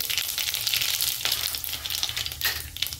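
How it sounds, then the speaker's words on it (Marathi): Mustard seeds and cumin sizzle in hot oil in a kadai, a steady crackling hiss with scattered pops heard alone at moderate level. "आता कढई गरम करायला ठेवलेली, तेल टाकलेले, तर तेल पण गरम झाले। आपण मोहरी टाकून घेऊ, थोडे जिरे पण टाकून घेऊ"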